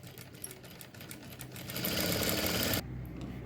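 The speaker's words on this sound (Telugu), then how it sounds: "ఈ క్లాత్కి ఒక సైడు ఇలాగా ఒక 1/4 ఇంచ్ వెడల్పు అనేది పెట్టేసుకొని స్ట్రైట్గా కుట్టు అనేది వేసేసుకోవాలి." A sewing machine runs steadily while stitching a straight seam along a quarter-inch edge of blouse fabric, the motor whir swelling louder near the end before stopping abruptly, with no talk.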